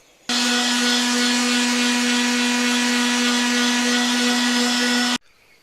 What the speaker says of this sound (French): dernier ponçage sur cette pièce.